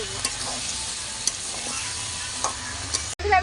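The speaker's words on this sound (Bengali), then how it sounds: "এবার সমস্ত সবজিগুলো একটু ভাজা ভাজা আমি করে নেবো" Mixed vegetables frying and being stirred in fish oil for a Bengali pui shak chorchori with katla fish, a steady close sizzle with occasional scraping stirs, cutting off abruptly near the end.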